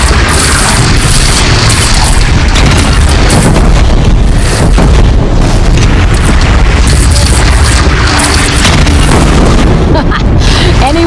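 Cannon fire in the video game Horizon Zero Dawn, a relentless wall of loud booming blasts and crashing explosions that overlap without a break for the whole stretch, dense and very loud.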